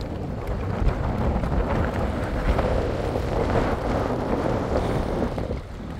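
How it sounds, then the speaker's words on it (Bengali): Steady wind blowing across a lake by a jetty, a continuous broadband rush with gusty swells and possible lapping water, loud and constant throughout with no speech. "অসাধারণ আসলে হাওয়াটা, এই যে বাতাসটা খুব সুন্দর"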